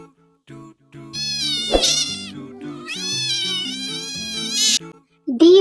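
Several drawn-out cat meows, some rising into strained caterwaul-like cries, heard up close against a faint piano melody, with short pauses between calls and a final abrupt meow at the end.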